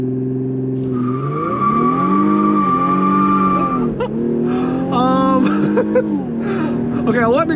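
An Infiniti Q50 3.0T spins its tires in a full burnout with traction control off, giving a loud, sustained squeal over a droning engine that wavers and chirps near the end.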